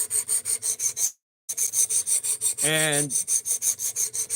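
A blade stroked back and forth across a diamond sharpening plate, rhythmic rasping strokes repeating evenly with a brief pause, close and fairly loud, a short voice cutting in midway.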